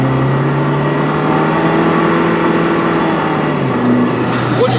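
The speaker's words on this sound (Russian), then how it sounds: "Слышно, если честно, двигатель" Jeep Wrangler with a straight-through exhaust, heard from inside the cabin on a winter drive, a steady droning engine hum that holds level, then eases to a slightly lower pitch near the end.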